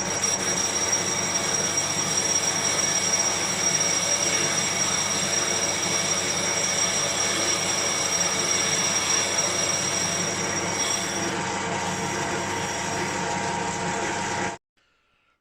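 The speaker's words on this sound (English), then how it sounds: "Right, I've machined this chamfer on the back." Lathe cutting a chamfer on the back of a gear disc for a 2-inch Fowler Showman's traction engine differential, a steady broadband machining whir with a faint high whine, continuous until it cuts off abruptly.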